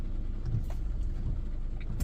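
Tires of a 2023 Toyota Highlander XSE spinning in third gear, heard as a steady, loud low engine and road rumble running throughout with no breaks.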